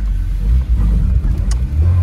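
A Tofaş car accelerates after its clutch is released quickly, with a worn clutch that slips: a loud, deep engine rumble rises and swells close by over about two seconds, with no speech.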